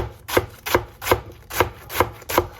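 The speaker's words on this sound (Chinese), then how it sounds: "然后再准备适量的包菜，改刀给它切成细丝" A knife slices cabbage into thin shreds on a board, six crisp, evenly spaced chops close up with no talking.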